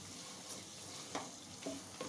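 Spices and curd stirred together in a pan for soya biryani, with a soft continuous sizzle and a few light spoon scrapes and clinks near the end, no talking.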